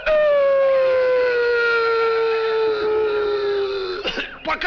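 A dog gives one long, loud, drawn-out howl that slides slowly downward and then breaks off into a few short, rough barks or coughing sounds at the end.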